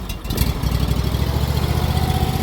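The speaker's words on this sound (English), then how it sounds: "Got its own engine, spreader." The small onboard engine of a spreader hitched to a pickup truck fires up after a brief cranking rattle, then settles into a loud, steady, close chugging idle.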